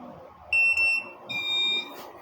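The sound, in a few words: buzzer of a Bluetooth keyless motorcycle alarm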